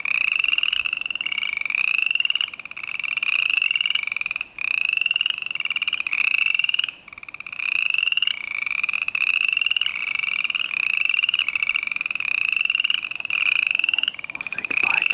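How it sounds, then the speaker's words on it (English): Frogs croak in a steady, loud chorus of rapid repeated calls, close by at an abandoned campground, with brief pauses now and then and no talking over them. "We'll say goodbye to our frog friends now"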